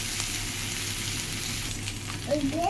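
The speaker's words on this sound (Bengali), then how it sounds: "তেলে আমি শুটকি মাছটা দিয়ে দিয়েছি। এটা আগে ফ্রাই করা হবে।" Dried fish (shutki) fries in hot oil with a continuous, close hiss and crackle, and a faint voice briefly surfaces near the end.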